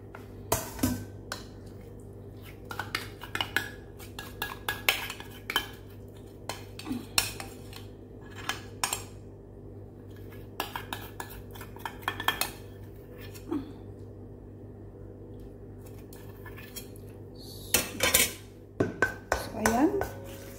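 Cake batter being mixed in a large bowl after transfer from a smaller one, for a budget chocolate pancake birthday cake: scattered clinks and scrapes of a utensil against the bowl, with a low steady hum underneath.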